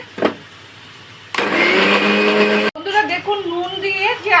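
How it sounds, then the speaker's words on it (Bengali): A mixer grinder whirs loudly, blending poppy seeds into a paste for aloo posto, in a steady burst of about a second and a half, followed by a voice talking. "এবারে এটাকে আবার মিক্সিতে পেস্ট করব"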